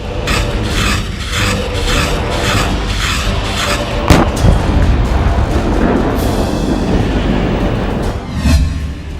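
Explosions and artillery fire from the war in Ukraine boom in heavy, rumbling bursts, with a sharp bang partway through and a dense, continuous roar of blasts throughout.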